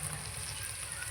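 Cardamom, whole spices and dry chillies fry in oil in a wok, a quiet steady sizzle over a low background hum for about a second.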